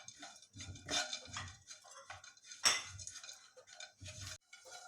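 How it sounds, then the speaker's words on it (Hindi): Crushed cashews and almonds roasting in a tablespoon of coconut oil, with a spoon clinking and scraping against the pan in irregular stirring strokes over a faint sizzle. "ये काजू और बादाम क्रश किए हुए डालकर इनको हम भूंज लेंगे।"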